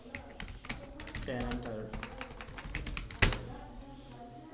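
Rapid typing on a computer keyboard while working in Excel, a busy run of close keystrokes with a louder key strike near the end, under someone talking.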